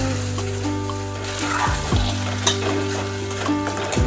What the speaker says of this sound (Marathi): एका हाताने दूध आणि पाणी टाकायचं आहे आणि एका हाताने ढवळत राहायचं आहे